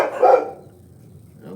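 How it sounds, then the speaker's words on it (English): A dog barks outdoors near a street, one loud close bark burst early, then fading into quiet ambient background with no talk. "How dare you drive by in the street when my dog is outside? And his barking has triggered my 2 inner dogs."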